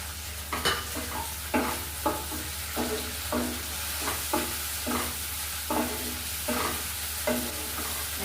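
Chopped tomato and green chilli fry in white oil with a steady sizzle while a spoon scrapes and stirs the pan in repeated knocks and strokes, close and clear with no talking.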